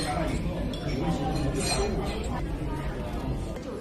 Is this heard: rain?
no